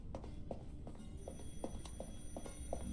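A telephone rings in the video game Beholder 3, a rapid repeating electronic bell pattern of short pulses, steady and moderately loud over a dense background of game music and noise.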